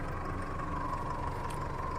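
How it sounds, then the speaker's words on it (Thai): A 2006 Isuzu D-Max SLX with a 2.5 diesel engine and manual gearbox idles in an even, steady drone with a faint tonal hum, heard alone without talking. "มาฟังเสียงเครื่องยนต์กันบ้างครับ ฟังเสียงเครื่องยนต์กันบ้าง"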